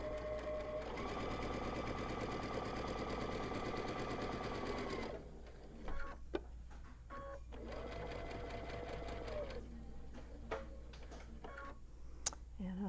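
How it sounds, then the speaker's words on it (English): Sewing machine with a standard general-purpose J foot stitches through fabric for a giant Christmas stocking, a fast steady mechanical whirring run that stops, then a few clicks and a second shorter stitching burst. "I'm sewing on the beautiful new ballad"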